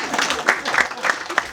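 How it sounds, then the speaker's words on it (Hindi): A crowd at a Hindi poetry gathering in Ahmedabad breaks into loud, dense applause that fills the whole short stretch. "करेक्ट, जोरदार तालियां।"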